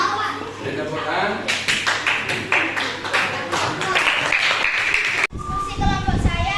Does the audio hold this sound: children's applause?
yes